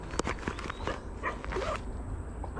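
A dog barks a few short, sharp yaps from a short distance by a canal path, mixed with faint whimpers against quiet outdoor background.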